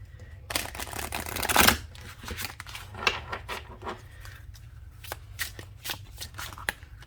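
Oracle cards are shuffled on a smooth surface in a quick riffling burst, then a run of softer, uneven taps and slides as the deck is handled, close and fairly quiet.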